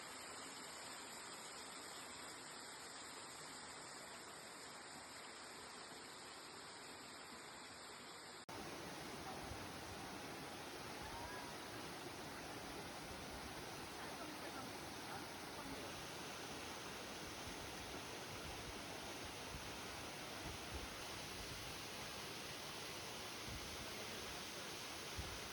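A waterfall on Doi Suthep mountain near Chiang Mai gives a steady, dense roar of rushing water that grows louder and fuller partway through and continues without a break.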